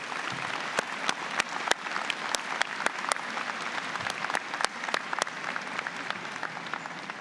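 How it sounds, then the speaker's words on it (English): Convocation audience giving a sustained round of applause for graduates' friends and family, dense steady clapping from a large crowd with no talk over it. "please join me in a round of applause for all these wonderful people"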